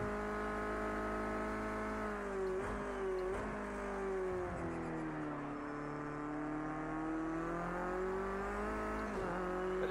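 Race car engine from Project CARS 2 with Logitech G29 wheel, a steady droning whine that rises and dips with gear changes and throttle lifts on a downhill push, loud and continuous with no talk.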